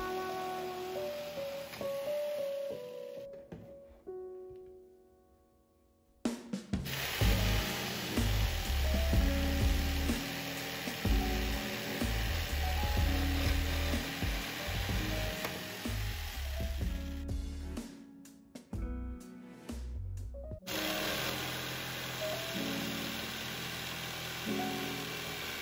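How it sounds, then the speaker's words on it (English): A power saw cuts marked wood pieces for a DIY mirror frame, buzzing loudly and steadily in two long runs with a short pause between. "Now we are going to cut where we made a mark."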